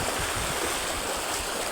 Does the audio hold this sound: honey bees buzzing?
no